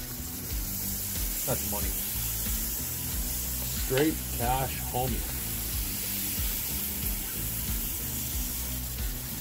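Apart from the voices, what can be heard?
meat sizzling on a hot grill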